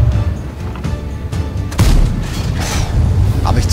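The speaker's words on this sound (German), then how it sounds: "Habe ich zu überhastet geschossen und den Panzer verfehlt" A tank cannon fires in the World of Tanks video game on the Studzianki map, a single deep booming shot with a rumbling tail amid steady battle noise, no talk.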